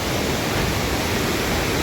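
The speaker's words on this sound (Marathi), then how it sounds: "हे मंदिर आणि एक वॉटरफॉल आहे, धबधबा आहे." Waterfall beside the Dhootpapeshwar temple in Rajapur, a steady, loud, unbroken roar of rushing water filling the whole clip with no voices over it.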